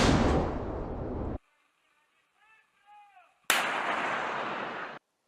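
Two heavy Russian artillery blasts roar loud and close, each a sustained broadband rumble lasting over a second, separated by a short gap with faint tonal sounds.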